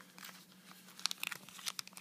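Packaging for a Sony Xperia Z phone crinkles and rustles in faint, close, irregular bursts of crumpling and light tearing during the unboxing.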